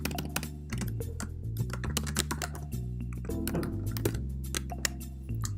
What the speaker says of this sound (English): And then just type in your message.